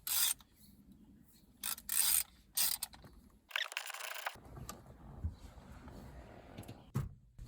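Ratchet fitted with a Torx 50 socket working on the steering column switch unit of a Peugeot 407, giving several short bursts of rapid clicking near the mic, separated by quieter rubbing and handling noises.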